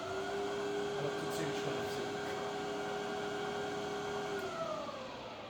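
A Bridgeport milling machine with an X-axis power feed runs its spindle at low speed, a steady quiet whine and hum holding for several seconds before easing as the tone drops near the end.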